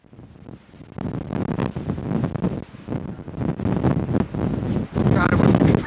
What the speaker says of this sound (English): This is a little windy.